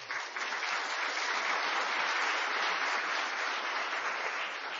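Audience at the Digital Freedom Expo giving a round of applause, a dense, even burst of clapping that holds steady at full strength for several seconds with no voices.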